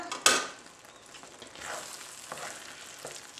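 Butter melts into a pan of rice for porcini risotto, giving a soft, steady sizzle under occasional spoon stirring and scraping, with a sharp clink at the start.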